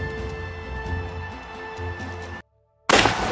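A sharp, loud starting gun shot for a rowing race bursts out after a brief silence, following a steady background of crowd murmur and ambient hum.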